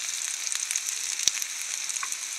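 Onion and cashew nuts sautéing in a pan for butter chicken, a soft, even hiss of frying with a single sharp tap of a spoon midway, close and quiet.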